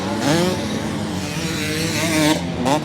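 Motocross bikes at the MXGP Trentino round, one engine screaming high and bouncing off the rev limiter in rapid stuttering bursts, with rising and falling pitch sweeps from the track at moderate distance.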